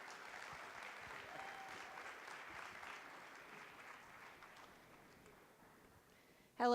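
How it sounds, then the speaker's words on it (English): An audience at an evening arts festival art show claps in sustained applause that slowly fades, then a voice starts right at the end. "Please give Cheryl a wonderful round of applause"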